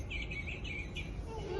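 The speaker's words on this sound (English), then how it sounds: "Let's listen to the bird song." Recorded songbird call played back in a toddler bird-call lesson, a series of clear repeated chirping whistles, fairly faint over a low background hum.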